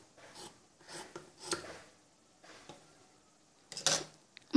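Scissors cutting blouse fabric by hand, several short crisp snipping and rustling strokes spaced apart, close and quiet, with a sharper snip near the end.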